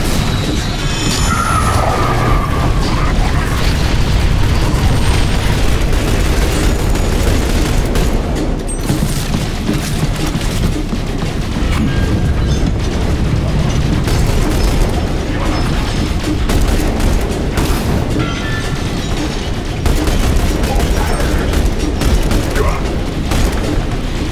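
Video game artillery support fire lands in a relentless barrage, heavy booms and crashing impacts rolling on without pause, loud and close, with battle voices shouting over the din.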